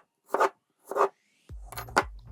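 A knife slicing the ends off fruit on a cutting board for a fruit platter, three short crisp cuts, close and fairly quiet, with no talk.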